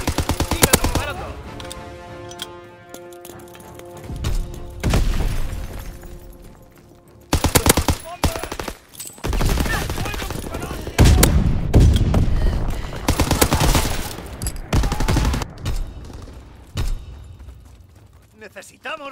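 Video game gunfire from Call of Duty WWII on the London Docks map: loud machine-gun bursts and single shots come in clusters separated by short pauses, with voices speaking between them.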